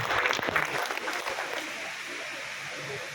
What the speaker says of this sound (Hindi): एक बार जोरदार ताली बजाकर उनका भी स्वागत और अभिनंदन करें